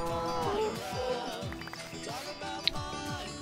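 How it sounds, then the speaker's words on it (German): Cows in the video game Minecraft lowing repeatedly, several overlapping drawn-out moos in a steady rhythm, fairly faint and close, with no talk over them. "Hier sind wieder Kühe."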